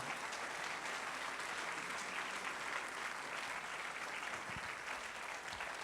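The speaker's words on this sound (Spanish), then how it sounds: "Alguien dele fuerte el aplauso al Señor" A church congregation applauds during a sermon, a sustained, even roar of many hands clapping that carries on for several seconds at a fairly distant, moderate level.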